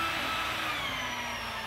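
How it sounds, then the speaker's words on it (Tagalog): A drill bores holes through steel pieces during tower construction, giving a close, steady, high whine with a constant grinding hum underneath. It runs without a break and no one talks. "Yan po ay drill para po magkabutas sa gitna."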